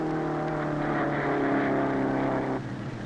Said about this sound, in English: Here's Mel and the jalopy.